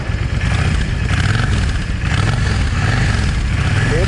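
A Yamaha 650 V Star motorcycle runs after a cold start with a slight hesitation, its engine making a loud, close, steady rumbling idle with a lumpy, uneven beat throughout.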